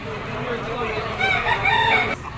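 At a chicken auction market in Lipa, a rooster crows in a drawn-out, wavering call that rises in the second half and cuts off sharply, heard over background crowd noise and chatter.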